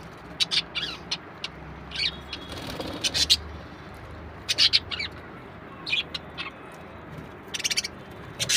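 Budgerigars chirp in a breeding colony, in scattered bright, high bursts of tweets that come every second or so over a low, steady background hum.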